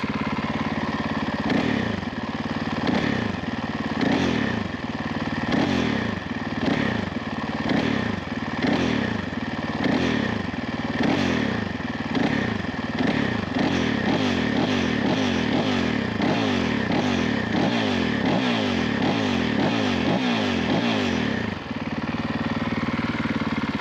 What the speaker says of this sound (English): Go ahead and blip the throttle a few times.